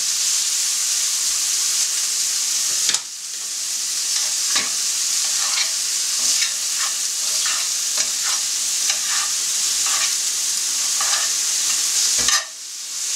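Loud, continuous sizzling of meat frying over high heat in a hot pan with a little oil, punctuated by a few sharp clicks and utensil scrapes as it is stirred.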